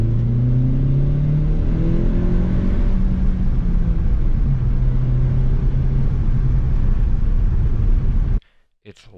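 A 2018 Honda Civic Sport (FK7) with a smooth turbocharged engine and six-speed manual accelerates. A loud, steady engine drone rises in pitch through the gears from inside the car, then cuts off abruptly near the end.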